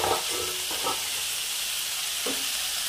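Pumpkin leaves tipped into a hot frying pan with ginger for a pea-lentil ghonto, a steady sizzle throughout with a few stirring scrapes near the start and again near the end.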